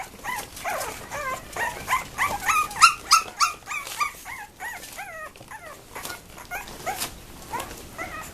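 A dog named Barney barks and whines repeatedly, a run of sharp yips and high whimpers in an irregular burst pattern, moderately close among other dogs in a training or play space.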